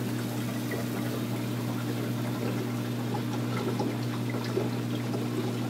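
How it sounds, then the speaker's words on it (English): Water flows steadily through a bio pellet reactor in an aquarium setup, a continuous close trickling wash over a low pump hum, with no talk. "it'll start pulling water through here"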